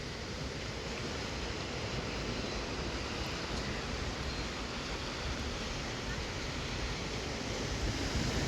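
Sea waves breaking against rocks at Aarvi beach at sunset, a steady broadband wash of surf with wind noise, continuous and fairly close, with no talk.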